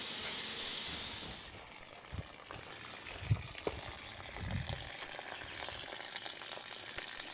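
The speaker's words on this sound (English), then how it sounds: "I'm gonna turn the water on here in the sink" Water runs from the tap into a tiny house sink as a steady hiss that starts strong and then drops to a softer trickle, with a few faint knocks and thumps afterward.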